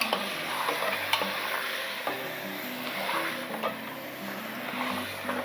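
Mutton pieces fry in hot oil in a home kitchen pot, a steady sizzle broken by repeated scraping stirs and ladle clinks against the pan, close and fairly loud with no voices.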